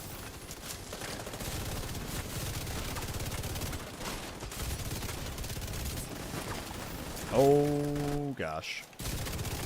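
Rapid gunfire bursts from a firefight in The Division 2, a shooter video game, roll on continuously under a player's voice, with a louder blast and a sharp electronic tone near the end.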